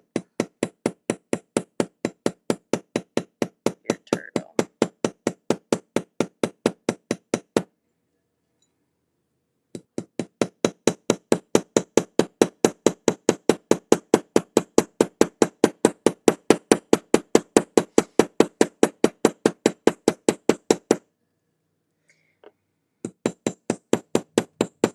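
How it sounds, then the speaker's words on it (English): Copper rivets being hammered for handmade seaside-themed jewelry, a fast, steady run of sharp metallic taps in two long bursts separated by a pause, close and loud with no talking. "You just have to be really particular on where you're hammering them so it doesn't just fold"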